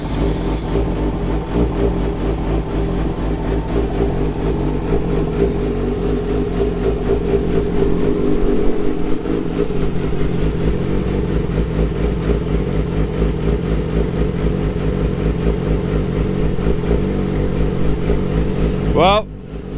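A Yamaha R6 motorcycle engine runs steadily up close, its fuel pump working, giving a continuous even drone that holds for the whole stretch before a brief high squeak at the very end.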